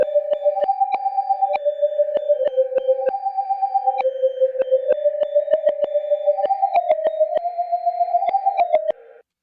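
A synthetic lead made from a MIDI-converted sample, reversed and normalized, playing a clean, tonal melody of short plucked notes in a steady rhythm, loud and alone, ending abruptly.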